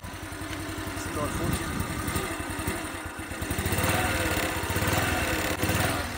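A 2024 Becane 33 Nejma moped, new and still being run in, runs with a steady buzzing, chugging small engine close by, loud and continuous with slight swells in revs.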